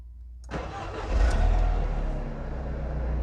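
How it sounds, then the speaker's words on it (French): Mercedes SLK engine, with its mass airflow sensor unplugged, cranks and fires after a short starter whir, revs up briefly, then settles into a steady idle, close and clear with no talk. "le moteur tourne exactement pareil"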